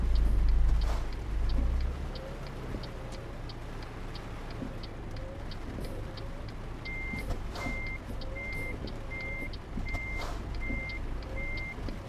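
Reversing beeps from a truck backing up in Euro Truck Simulator 2, a steady evenly spaced series of high tones over a low engine rumble, with faint bird sounds in the background.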